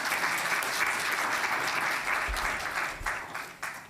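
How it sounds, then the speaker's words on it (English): A crowd at a Sri Ramakrishna birthday gathering claps for a Vedic chanting team, a dense, even wash of applause that tapers slightly near the end. "round of applause for the Vedic chanting team"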